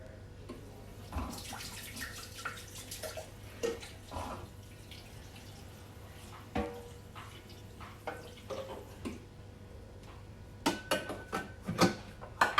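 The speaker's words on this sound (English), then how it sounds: "Okay, 5 seconds just to clean up the bowl. No soap, yeah, just water." A bowl is rinsed under running kitchen water without soap; a low, steady flow carries scattered splashes and knocks, ending in a cluster of louder clatters as the bowl is handled.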